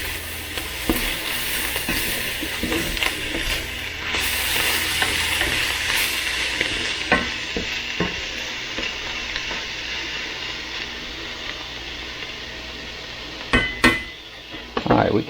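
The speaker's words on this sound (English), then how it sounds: "Let's get these onions turned over." Onions frying in a pan alongside steak, a continuous close sizzle broken by scraping and clanking as a utensil turns them over, with sharper knocks near the end.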